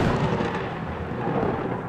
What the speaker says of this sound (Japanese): この日の夕方は雷を伴う激しい風雨に見舞われていました